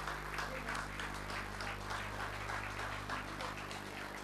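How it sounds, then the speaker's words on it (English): An audience at an institutional function applauds, a continuous spread of clapping heard faintly at a distance over a strong steady electrical hum. "Please put your hands together and give a big thunderous round of applause to Mr. C.V. Srinivasan"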